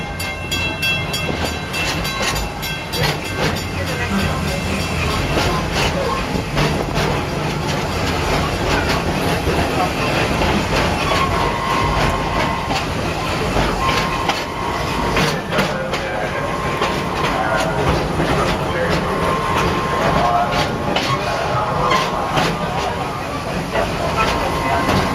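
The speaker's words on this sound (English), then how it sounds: "Please remain seated until the train does come to a complete stop." A park train at Busch Gardens in Tampa, Florida rolls along and pulls into its station, with steady rumbling and clickety-clack of the wheels close by while an announcer speaks over the noise.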